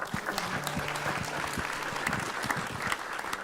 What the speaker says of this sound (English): This is the moment when you get to applaud yourself for being such a wonderful community